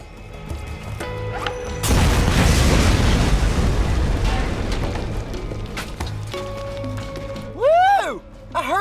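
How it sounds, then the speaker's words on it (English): A barricade blows up in the Borderlands video game, a loud booming explosion with a long rumbling, crackling tail lasting several seconds, followed by quieter game sounds and a sharp electronic whine near the end. "the Vault hunters head over to the entrance to Skag Gully and explode the barricade with the nearby"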